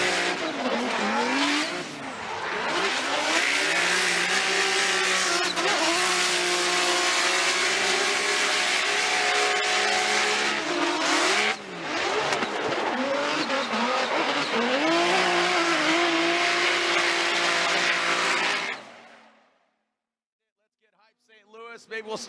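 An Up Garage ISR Performance 86 drift car at a Formula Drift battle screams at high revs with squealing tires through a long sustained run, loud and steady before cutting off, with commentary over it.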